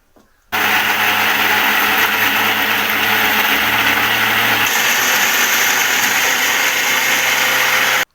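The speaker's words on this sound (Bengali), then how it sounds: "এবার এই ডিমের খোসাগুলো হচ্ছে গুঁড়ো করে নেব একদম মিহি করে" An electric grinder runs steadily, powdering eggshells finely for homemade garden fertilizer; a loud, continuous whirring motor hum lasts nearly eight seconds, with a slight shift in pitch midway, then cuts off abruptly.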